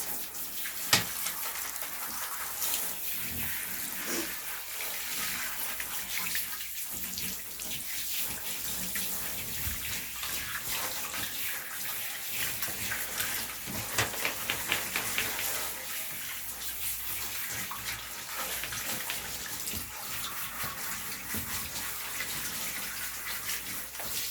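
Water running steadily from a tap while a dog is rinsed during a home bath, a continuous close splashing rush with small irregular spatters throughout.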